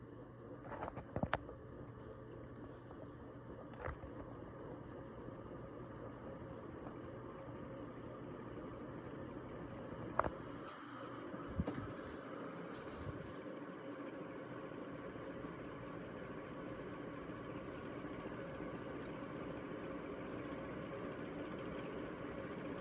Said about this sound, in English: You can really hear that motor starting up like that.